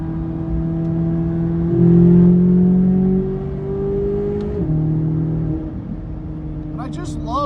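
Naturally aspirated sports car engine revving as it accelerates, a steady droning engine tone that rises in pitch, climbs in bursts and drops between shifts, loud and close throughout.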